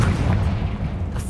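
A Confringo fire spell explodes in the game Hogwarts Legacy, giving a loud, sustained low boom that rumbles steadily for just over a second with no voices.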